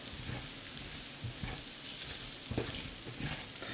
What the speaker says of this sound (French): On va remuer tout ça. Et on va rajouter un petit peu d'eau.